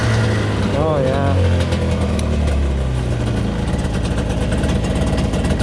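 A 1990 Yamaha Vmax 540 snowmobile engine idles close and loud, a steady low throb with a brief rev early on that settles back to an even idle.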